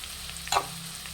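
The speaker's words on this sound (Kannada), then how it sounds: "ಇದನ್ನೆಲ್ಲ ಹಾಕಿ ಚೆನ್ನಾಗಿ ಫ್ರೈ ಮಾಡಬೇಕು" Curry leaves and green chilies frying in a pan for pepper chicken, a steady low sizzle with one brief louder crackle or stir in the middle, close and without talk.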